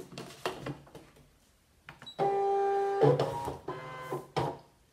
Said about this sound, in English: then I'm going to put it through the ScanNCut machine